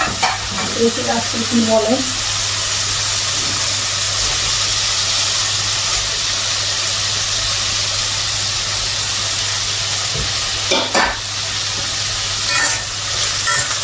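Fish frying in oil in a home kitchen pan, a steady loud sizzle and hiss throughout, with brief stirring clatter and a few spoken words.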